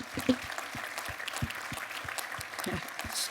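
Audience applauding the volunteers at a Grande Vendée gathering in a hall, steady clapping from a moderate crowd that holds at an even level for the whole stretch, with a voice briefly audible near the start.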